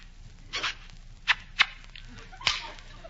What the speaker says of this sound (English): Well, I had to slap you